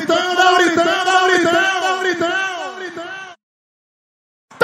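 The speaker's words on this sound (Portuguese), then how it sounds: "dá um gritão, dá um gritão" A crowd at a live show in Santana do Seridó, RN, shouts and whoops loudly and continuously for about three seconds, with voices rising and falling together, before breaking off into silence.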